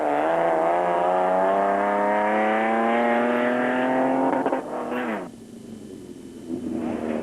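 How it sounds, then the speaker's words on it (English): A 4x4 Toyota Land Cruiser rally car races past in an off-road desert race, its engine whining up through the gears loudly, then dropping away with a gear change as it recedes. "band and wife Frank and Delian de Greef were coming under pressure from Lichtenberg 200 and Mafeking 200 winners Hein Mulman and Cecil Fincham in the 4x4 Mega World Toyota Land Cruiser"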